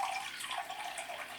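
Plain water pours steadily into a bowl as it is weighed for bread dough, a continuous soft splashing trickle at moderate distance with no talk.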